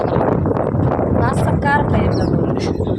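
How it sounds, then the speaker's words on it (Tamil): Wind gusting across an open arena at Alanganallur, a broad steady rushing roar buffeting the microphone, with faint distant voices and brief higher sounds poking through. "காற்று நல்லா சின்னதாக வந்துருக்கு"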